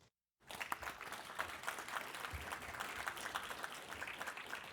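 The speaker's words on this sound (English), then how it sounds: "Let's welcome him with a big applause" An audience at a programming conference talk applauds steadily after a brief silence to welcome the speaker, dense clapping sustained at an even level to the end.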